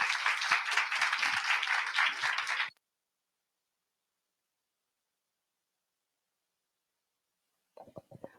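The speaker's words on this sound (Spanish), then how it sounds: "un aplauso por favor para ustedes y para nuestra invitada." Applause from an audience at a university lecture, a dense burst of clapping for nearly three seconds that cuts off abruptly into silence, then a brief faint rustle at the end.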